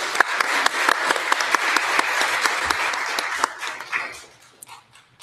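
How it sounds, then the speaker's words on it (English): Audience members at a League of Women Voters candidate forum give a round of applause, steady clapping with distinct individual claps popping out, then thinning and fading into scattered last claps. "Can we give them a thank you with a round of applause"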